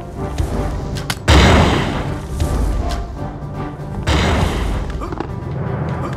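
Enemy fireballs in the video game UnEpic hit with two heavy booming thuds a few seconds apart, each trailing into a rumbling roar, as someone talks in between.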